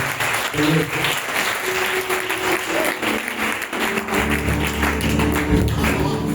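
A church seminar audience applauding, with dense, sustained clapping that fills the room, close and loud, while a voice talks underneath toward the end.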